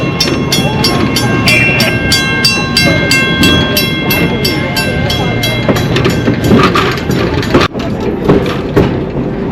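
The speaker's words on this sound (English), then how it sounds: "What an amazing train ride that was." An excursion train on the Colebrookdale Railroad in Pennsylvania rolls along the rails, with a loud continuous rumble, rhythmic clicking of wheels over track joints and a passing sharp clatter near the end.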